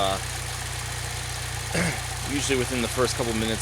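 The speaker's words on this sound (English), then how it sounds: "especially since this car's got a deeper exhaust, you can kind of hear the exhaust stumbling a little bit" A Saab car with a deeper aftermarket-style exhaust runs at idle, a steady low rumble that stumbles slightly now and then, while someone talks over it.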